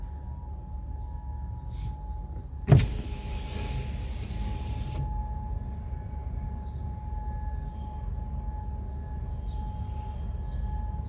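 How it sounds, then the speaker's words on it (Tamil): A faint, distant warning siren in Kuwait holds a steady tone under low background hum, broken once by a sharp click. "சைரன் சத்தம் மாதிரியும் கேட்குதா?"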